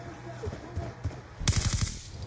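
Sentry guns in a video game fire a brief, rapid burst of automatic shots, loud and close, with faint background noise before and after.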